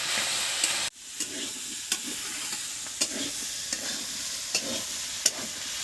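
A potato and cauliflower samosa filling with chopped ginger fries in a pan, a steady close sizzle with regular sharp scraping clicks as a spatula stirs it, after a brief drop near the start.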